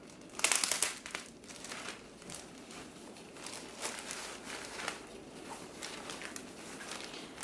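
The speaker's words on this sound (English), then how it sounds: "folding them, placing them in bags, sealing them, and adding a label to the front" Plastic resealable bags crinkling as fabric photo backdrops are folded and sealed inside, with a sharp rustle near the start followed by quieter intermittent crinkles and soft handling noises.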